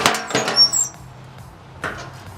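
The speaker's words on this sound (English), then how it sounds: "I just pop the head right off that bolt." A rusted bolt head on an old wooden chair snaps off under a tool, giving a sharp crack and knock near the start, then a second impact a moment later amid quieter handling noises.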